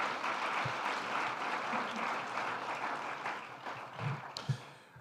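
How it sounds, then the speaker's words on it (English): Warm applause from the audience at a Namibia-EU business forum, a steady wash of clapping that holds for about five seconds and then begins to fade. "give him a warm round of applause"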